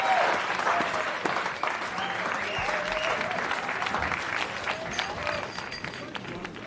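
A studio audience at a French show applauds Capitaine Briard with sustained, full clapping that stays loud throughout, with voices faintly mixed in.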